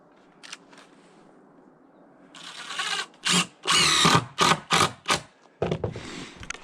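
Cordless power drill driving screws into deck boards in short, sharp bursts of whirring, several quick pulses in a row after a quiet start, fairly close and loud.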